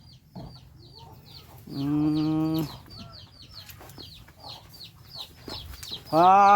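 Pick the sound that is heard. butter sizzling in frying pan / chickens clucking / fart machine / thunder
chickens clucking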